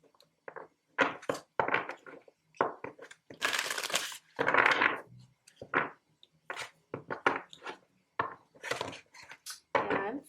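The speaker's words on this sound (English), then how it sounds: "I have fully shuffled already, and I'm just going to do a couple more here." Tarot cards are shuffled close up in a series of separate bursts, quick papery riffles and slaps with brief pauses between them and no talk over them.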